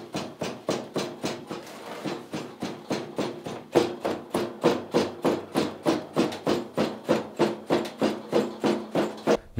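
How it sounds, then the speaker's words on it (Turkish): Carpet loom beating comb (kirkit) striking the weft threads in a steady, fast rhythm, sharp thuds of wood and metal repeating about three times per second, close and loud with no talking. "Bizim ninnimiz tezgahtan gelen kirkit sesi"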